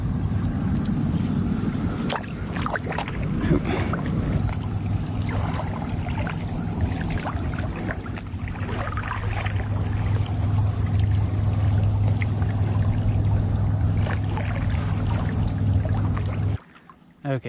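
Water trickles and flows out of a small pond into a Montana lake, a steady close splashing rush with faint movement noises, ending abruptly.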